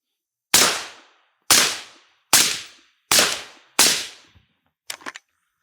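Five suppressed 5.56 rifle shots fired with M193 ammunition, evenly spaced sharp cracks about a second apart, each loud with a quick decaying tail, followed by a brief faint clatter.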